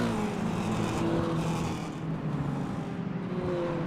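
Mini stock race cars on the Hickory track roar loudly past in a pack, engines revving and overlapping before fading a little as they move away.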